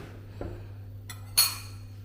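A spoon is picked out from among cutlery in a quiet kitchen near an induction stove: a soft knock, a light rattle, then one sharp metallic clink, with no talk.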